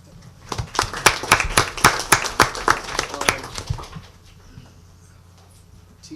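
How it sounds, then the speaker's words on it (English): Applause from an audience at a school district board of education meeting honouring the insurance committee: a burst of sharp, fairly close claps for about four seconds, then fading to quiet room tone. "you probably want to give these people a very special round of applause"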